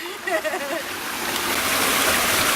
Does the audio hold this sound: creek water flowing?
yes